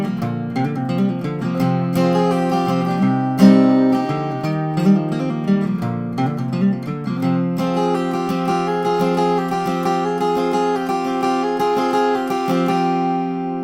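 An acoustic guitar plays the intro of a song with steady picked and strummed notes ringing out close and clear, with no voices.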